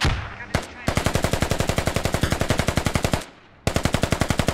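Rapid automatic gunfire in a military video game, long bursts of evenly spaced shots with a short gap between them, loud and close.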